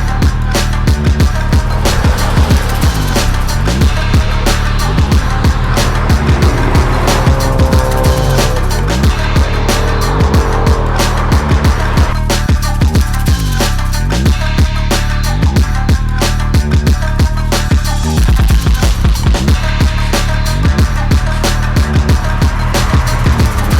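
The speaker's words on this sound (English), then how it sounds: "I love the character of this engine because, as I already say, it's really old school." Honda Civic Type-R engine under way, a loud continuous mechanical drone with rising and falling revs through gear changes, steady and close throughout.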